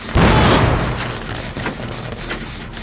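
A generator blows up after a failed skill check in Dead by Daylight Mobile: one sudden loud booming burst that fades into a rumbling, crackling tail over a few seconds.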